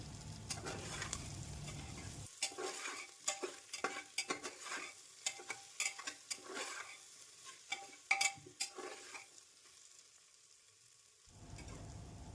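Vegetables and soaked soybeans for masala rice are stir-fried in a pan, giving a quiet sizzle under repeated scraping and stirring strokes, irregular and close, with a brief lull near the end.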